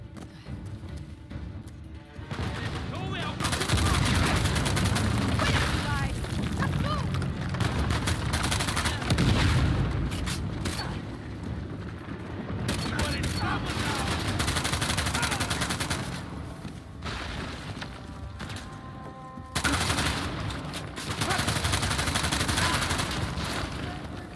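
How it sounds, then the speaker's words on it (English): Shotgun blasts and other gunfire ring out in a firefight in Uncharted: The Lost Legacy, loud bursts of shots in clusters separated by short quieter gaps. "I gotta love shotguns."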